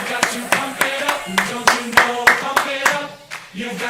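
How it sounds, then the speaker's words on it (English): Hands clapping in a steady rhythm, about a dozen sharp claps close to the microphone, with a voice talking over them. "I'm clapping, Clint."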